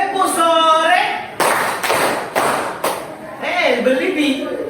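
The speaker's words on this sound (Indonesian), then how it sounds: "nanti tepuk sore, maka kita bertepuk 3 kali" A classroom group plays a clapping game, clapping three times together in sharp bursts between stretches of talk from a teacher and students.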